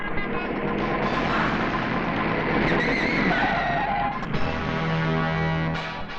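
A vehicle brakes to a halt on a road, a loud continuous rush of tire and engine noise that tapers as it slows, in an Ajay Devgn Hindi action film scene.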